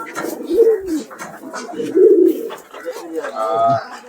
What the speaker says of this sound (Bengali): আবার এক জোড়া আছে আমার কাছে এই জোড়া দুর্দান্ত দেওবন্দি